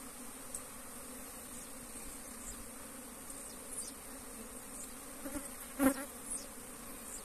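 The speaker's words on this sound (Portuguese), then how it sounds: "O enxame, ao invés de entrar na caixa, ele tá saindo." A swarm of bees leaves a hive box, giving a continuous even hum with individual bees buzzing loudly past the microphone toward the end.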